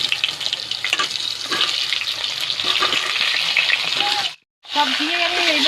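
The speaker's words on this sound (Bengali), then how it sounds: "সব ঝিঙে আমি এইভাবে ভেজে নিচ্ছি।" Ridge gourd frying in hot oil for a potato and poppy-seed dish, a steady close sizzle with stirring scrapes that drops out for a moment before resuming.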